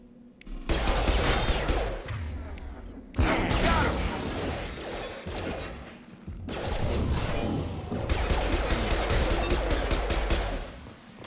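Gunfire from a firefight in Mass Effect 2 Legendary Edition, dense sustained bursts in three long stretches separated by brief lulls, loud and close amid combat noise.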